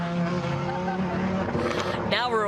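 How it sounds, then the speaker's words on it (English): An Audi rally car launches off the start line of a forest rally stage, its engine note rising and revving hard, close and loud, with commentary talk running over it. "And this is the Audi off the line."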